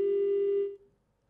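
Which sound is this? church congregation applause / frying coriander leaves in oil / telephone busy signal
telephone busy signal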